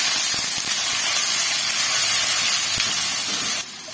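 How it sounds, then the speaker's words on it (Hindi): Fennel, fenugreek and mustard seeds, cumin, garlic and whole dried red chilies sizzle loudly in hot oil for an achari potato dish, a dense steady hiss close by that drops off abruptly at the end. "इसी ऑयल के अंदर मैं बाकी मसाले डालूँगी। सौंफ डाल दूँगी, मेथी दाना डाल दूँगी, राई दाना डाल दूँगी, जीरा डाल दूँगी"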